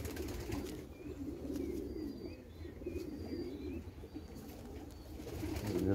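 Low, soft cooing of pigeons repeats steadily nearby, with a few faint chirps from other birds above it.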